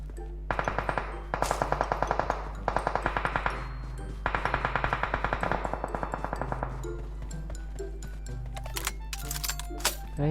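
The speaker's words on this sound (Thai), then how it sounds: "เพื่อนเรายิงไอ้หมอนั่นแล้ว" Automatic gunfire in the mobile battle-royale game PUBG Mobile rattles in several rapid bursts separated by short pauses, crisp and moderately loud, with a few scattered single shots near the end and no talking.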